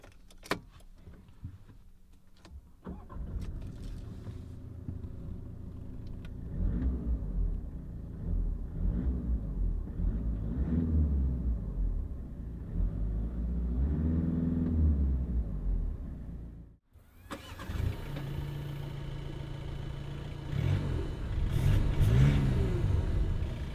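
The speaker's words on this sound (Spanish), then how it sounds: "vamos a encenderlo para que escuchéis el sonido tanto interno como externo" A Volkswagen Touran car engine starts up and idles, a steady mid-pitched running hum with gentle swells, first heard from one position and then after a brief cut from another, louder and closer.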